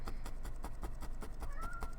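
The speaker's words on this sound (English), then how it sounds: "I think she was meowing at the husband" A faint cat meow rises briefly over a steady, rhythmic pulsing background noise, with no talking.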